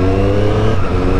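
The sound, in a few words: Triumph Street Triple three-cylinder motorcycle engine revving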